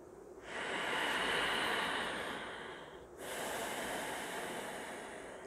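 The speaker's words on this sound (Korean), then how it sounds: "숨소리는 항상 스스로 내고 있다고 생각을 하는 게 좋아요" Two long, forceful breaths during Ashtanga yoga practice pass close to the ear, each a rushing airy exhale, the first longer and stronger, with no talking.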